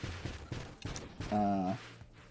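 Rapid-fire gunshots in the space shooter Nova Drift crackle in quick bursts, followed by a sustained tonal buzz from the game, moderately loud throughout the short span.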